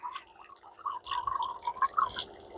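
Steady water flow from a Purewell K8680 10-stage portable RV reverse-osmosis purifier, running and dripping quietly with light splashing, close and unbroken with no talk.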